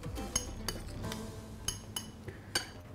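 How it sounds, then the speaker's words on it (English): A spoon stirs a dip seasoned with salt and dried mint, producing a series of light clinks and taps against the bowl at an irregular pace, close and fairly quiet. "And we mix it again."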